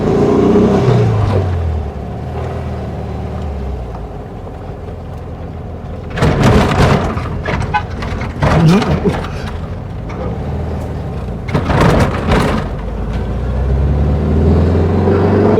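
A UPS delivery vehicle rumbles past outdoors in two louder surges, its engine and tire noise swelling and fading against a steady background hum.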